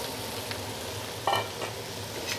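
Snow peas and onions are tossed in a hot frying pan for seafood pan-fried noodles. A steady, close sizzle runs throughout, with one brief louder toss of the vegetables near the middle.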